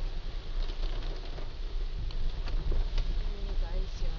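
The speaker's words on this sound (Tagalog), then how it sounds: "Ang lakas ng ulan." Heavy rain in Baguio drums steadily on a car roof, heard from inside the vehicle as a dense, continuous patter with scattered louder drops, while a person talks over it.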